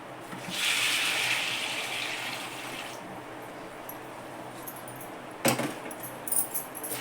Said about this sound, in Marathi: ह्यात आता मी पाणी टाकते